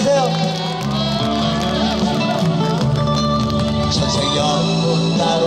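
An outdoor audience at an autumn temple festival concert gives steady, continuous applause with some crowd noise. The clapping holds at a fairly loud level throughout, with a low musical backing underneath.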